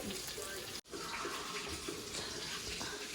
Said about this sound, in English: Once I drain my noodles, I'm gonna come back and show you guys how I season my noodles